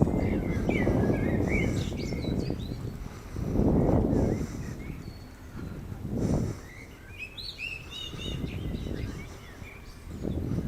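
A bird chirps and calls repeatedly at a beach near the Skyway Bridge, thin tweets over loud gusting wind and surf rumble.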